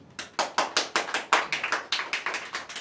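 Hand claps at a Japanese beatbox battle audience vote come in a quick, even run of about fifteen distinct claps, fairly quiet and sparse, as from only a few people.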